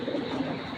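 A Giribaj pigeon coos softly in a low, continuous burble, close by, over a brief moment with no talking.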